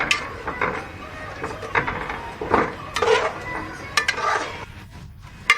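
A spoon stirs chicken tikka biryani marinade with dried fenugreek leaves and food colouring in a pot. The result is irregular scraping and soft clinks of metal against the pot, close by, in uneven bursts.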